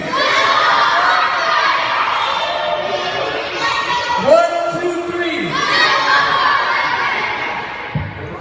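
A live talk-show audience yells together on cue after a spoken countdown, a loud burst of mixed shouting and cheering voices that swells, dips briefly, then rises again before fading.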